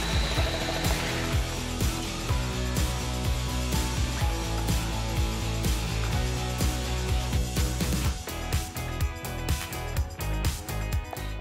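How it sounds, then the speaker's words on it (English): A bamix SliceSy food processor slicing peeled potatoes, a loud continuous motor whir with rapid chopping and clattering over the whole stretch, growing more broken and percussive near the end. "Peeled potatoes are cut into regular fine slices in seconds."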